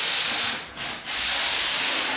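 A sanding stick rasps over drywall top angles in long, steady strokes, loud and close, with a short pause in the middle as the stroke changes direction.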